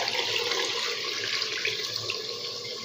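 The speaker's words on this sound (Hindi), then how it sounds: "अब इसमें पानी डालना है" Water pours steadily from a 1 litre container into a pot of rice for chicken pulao, a continuous close splashing gush without pause.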